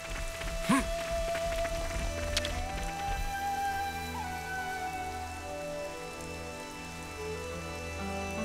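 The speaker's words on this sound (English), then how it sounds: "Rain. Careful you don't catch a chill." Rain falls softly and steadily in Xenoblade Chronicles 3, a faint patter under sustained game music tones, with no speech.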